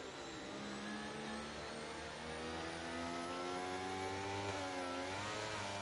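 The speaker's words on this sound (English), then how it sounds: "Listen to that engine." Aston Martin Formula 1 car at the Italian Grand Prix heard from onboard, its engine droning steadily with rising pitch sweeps as it accelerates, loud and continuous throughout.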